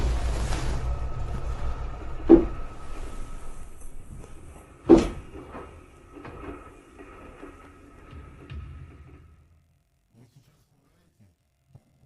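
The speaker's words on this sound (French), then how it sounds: "Puis, la porte extérieure se met à claquer." An outer door banging in a frightening scene, two sharp separate slams a few seconds apart over a low rumbling background that fades to near silence.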